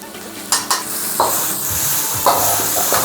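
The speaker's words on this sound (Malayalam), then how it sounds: "മസാല ഒന്ന് മുരിയണം, ഓയിലിൽ മുരിഞ്ഞ് ആ റോ ഫ്ലേവർ" Coriander and turmeric powder masala sizzles steadily in hot oil, with a spoon scraping and stirring the pan in several quick strokes up close.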